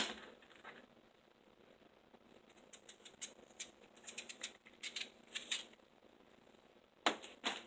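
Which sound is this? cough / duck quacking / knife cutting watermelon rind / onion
knife cutting watermelon rind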